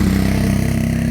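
A motorcycle engine throbs close and loud in a short, steady rhythmic pulse, with no talking over it.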